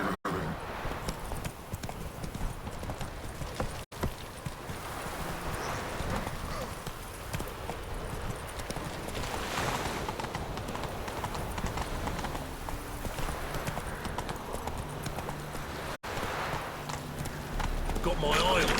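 Roach, the horse from The Witcher 3: Wild Hunt, gallops with rapid, continuous hoofbeats up close, heard under a talking voice and game music, with a couple of brief breaks.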